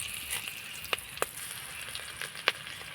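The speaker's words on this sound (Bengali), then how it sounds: "ফোড়নের সঙ্গে কারি পাতাটা আমি ভালো করে ভেজে নিয়েছি" Curry leaves and five-spice seeds frying in oil in a pan, a steady sizzle with a few sharp crackles and pops, close and moderately loud, no talk.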